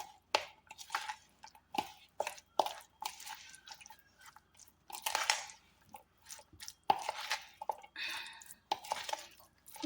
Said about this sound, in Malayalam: ഇനി ഇതൊന്ന് മിക്സ് ചെയ്യാം.